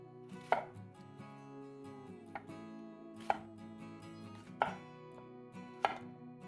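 A knife chops an onion into large sections on a cutting board, making four or five crisp, well-spaced knocks over a low background hum, with no talking.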